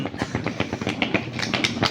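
The Kamrup Express rolls into Nimtita station's platform with a steady, rhythmic clatter of wheels over rail joints, fairly loud and close, with no voices.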